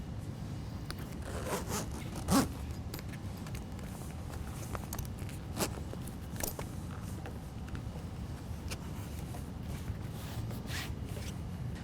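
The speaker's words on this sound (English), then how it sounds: "tighten everything up, zip up your zippers" Several short zipper pulls being run along the fabric panels of a Bestop Trektop NX soft top on a 2015 Jeep JK, quick rasping strokes with scraping and rustling in between, close to the microphone.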